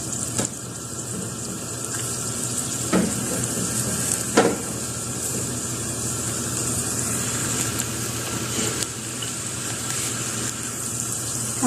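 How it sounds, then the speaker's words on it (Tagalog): Garlic sizzles steadily in hot olive oil in a pan for a beef broccoli dish, a continuous fizzing hiss with a few sharper crackles, fairly close and with no talking. "At igisa natin yung ating bawang."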